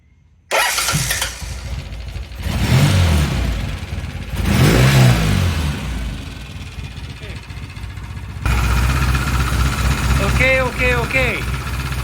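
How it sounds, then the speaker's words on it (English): A Norton motorcycle engine cranks and catches, revving in a couple of loud bursts before settling into a rough, throbbing idle close by, with some faint talk and clatter over the running engine. "I'm gonna start the bike and let it idle for about, I don't know, 5 or 10, 15 minutes"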